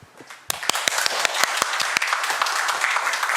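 Applause at a council environment and welfare committee meeting, a room of people clapping steadily and fairly loudly for a few seconds after a brief quiet start.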